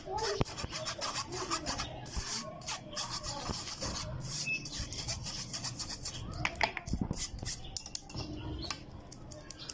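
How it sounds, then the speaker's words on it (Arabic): Steady scratchy rasping and tapping of a sieve as flour and cocoa are sifted for cookie dough, close up, in irregular bursts. "وهنبتدي ننخلهم كده عشان ما يبقاش في تكتل معانا في العجينه"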